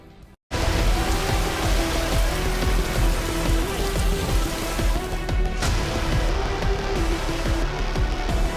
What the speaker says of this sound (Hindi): बादल झमाझम बरस रहे हैं